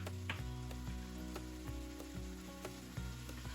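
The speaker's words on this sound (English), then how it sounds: "they can fry down with the rest of the vegetables and spices" Steady sizzling of vegetables and spices frying in a hot pan, continuous and fairly close, with occasional faint clicks of stirring.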